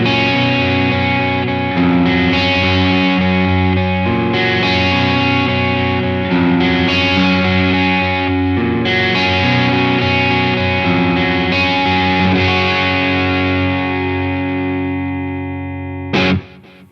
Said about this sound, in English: even when it's cranked really high, this really firmly sits in that overdrive camp